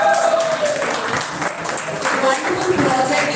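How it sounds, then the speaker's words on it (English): Applause from an audience at a Rotaract club event, honouring award recipients, steady and fairly loud across the whole stretch, with some crowd murmur mixed in. "A round of applause to them."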